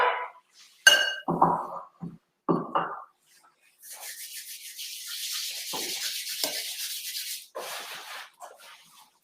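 Ingredients being mixed into flour in a bowl for stained-glass Christmas cookies, heard first as a few scattered clinks and taps, then as a steady scraping and rubbing stir close by, with no talking.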